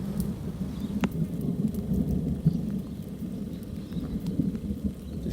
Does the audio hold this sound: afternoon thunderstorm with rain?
yes